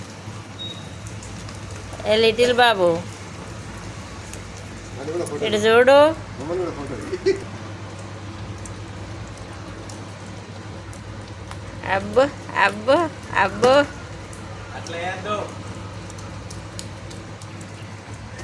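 Steady rain falls in a continuous hiss on a road while a child walks with an umbrella; a person's voice breaks in several times with short, excited bursts of talk over the rain.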